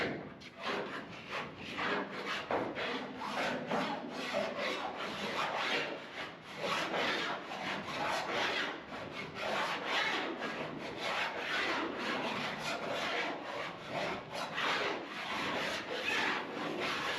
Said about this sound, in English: to finish it with this file makes it perfectly straight